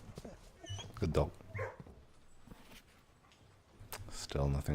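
In the video game Blue Prince, a dog gives a few short barks and yips, loud and close, mixed in with the player's speech.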